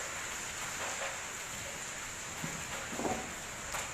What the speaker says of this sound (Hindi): बाहर बहुत तेज़ बारिश की आवाज़ आ रही है